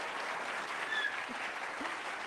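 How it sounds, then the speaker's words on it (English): An audience at a NASA OSIRIS-REx presentation claps quietly, a faint, steady patter that sounds distant, with a couple of soft whistles or cheers rising over it. "don't be afraid to clap or cheer"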